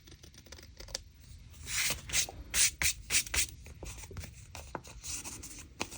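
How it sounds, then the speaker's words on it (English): A pencil traces around a paper tag on a craft table, making close, scratchy strokes in irregular bursts that grow louder midway, with no talking. "I just need to trace around it"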